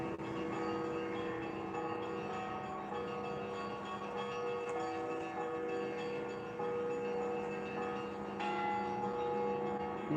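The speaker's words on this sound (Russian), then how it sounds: "как это называется, колокольный распев" A peal of church bells rings out in Yakutsk, faint and distant, half buried under the steady wash of road traffic.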